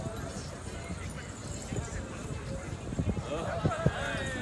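A horse galloping in a tent pegging run at an outdoor event, rapid hoofbeats building louder toward the end under steady crowd babble and an announcer's voice.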